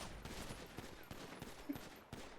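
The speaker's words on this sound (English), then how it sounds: "Stop shooting me!" Gunfire in the video game GTA roleplay, a quiet, distant rattle of rapid shots in short bursts, fairly faint and continuous across the moment.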